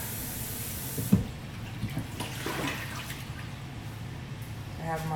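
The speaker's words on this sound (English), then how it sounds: "I have my water here to wash my celery." Water from a tap runs and splashes quietly into a container for washing celery in a home kitchen, with a sharp knock near the start and soft background noise.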